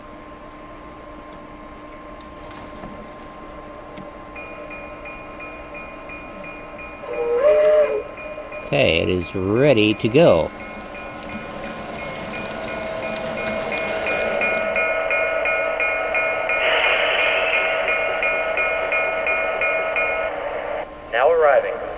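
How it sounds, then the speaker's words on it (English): An MTH EP-5 model electric locomotive with Protosound 1 sounds its whistle, a long steady tone held for many seconds at moderate volume. Someone speaks briefly near the start, and a rumbling hum runs beneath. "The engine will whistle, letting me know that it received the signal."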